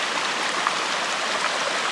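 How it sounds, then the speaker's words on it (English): East Branch Bear Trap Creek, a small stream along the Pacific Crest Trail, rushes in a steady, close, broadband wash of flowing water with no voices. "A nice little stream."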